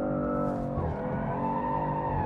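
A race car accelerating hard in second gear on the Phillip Island circuit gives a loud, close engine roar whose pitch dips briefly and then climbs steadily, with no other sound.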